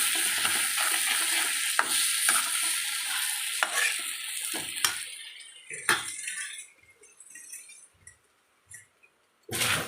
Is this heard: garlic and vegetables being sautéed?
yes